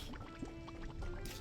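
In Terraria, a fish jumping from the water gives soft liquid splashes and drips, a few brief wet bursts over a constant game ambience with a sustained tone.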